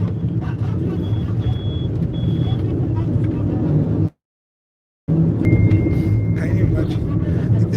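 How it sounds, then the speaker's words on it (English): A bus passes on a road near the Mowe bus stop with a loud, steady engine rumble close by. The sound drops out for a second partway through, and voices talk over it. "Went offline when the bus was passing."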